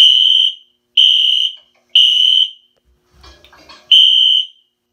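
Fire alarm system sounds in a drill test: four loud, piercing electronic beeps about one second apart, each roughly half a second long, with a brief muffled noise in the gap before the last beep.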